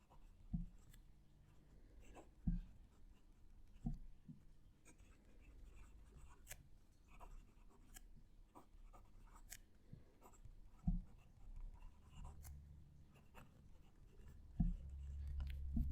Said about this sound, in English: I'll move the mic so you can hear the pen write.